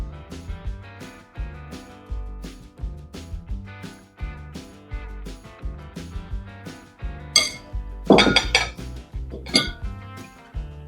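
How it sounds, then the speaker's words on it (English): Muffin batter made with banana and frosted flake cereal being spooned into muffin cups, with a spoon clinking and scraping against a bowl and pan in rhythmic strokes, close and fairly loud, no talking. "So now what we're going to do is fill our muffin cups."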